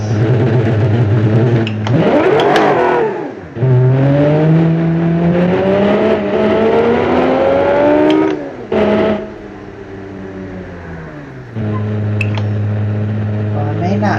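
Loud car engine in the BeamNG driving game, revving and rising in pitch through long sweeps, cutting out briefly, then settling into a steady drone, with someone speaking over parts of it.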